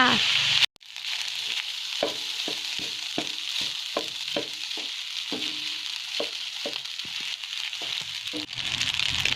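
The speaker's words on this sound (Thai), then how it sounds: "ใส่ข้าวสวยที่เราเตรียมไว้นะคะ แล้วก็ผัดให้เข้ากันเลยค่ะ" Cooked rice with tomato and onion stir-fries for shrimp fried rice, a continuous loud sizzle broken by repeated scraping clacks of a spatula against the pan.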